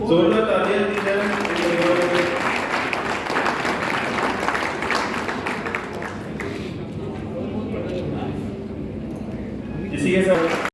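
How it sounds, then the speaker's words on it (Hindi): An audience at a farmers' fair claps loudly, the applause rising quickly and continuing for several seconds before thinning out, then briefly swelling again at the end, with voices audible over it. "जोरदार तालियां दी जाए।"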